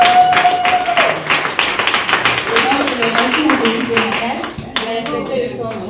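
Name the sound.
audience clapping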